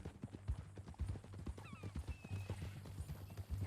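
Horse hooves clip-clopping in Red Dead Redemption 2, a steady run of close, crisp hoof strikes with faint background game ambience and no talking.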